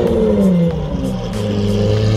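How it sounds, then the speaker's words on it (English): A Lamborghini Aventador's engine roars loudly at close range during a gas station stop, a deep, steady, low-pitched rumble with slight swells of revving and no talk over it. "This Aventador sounds so insane."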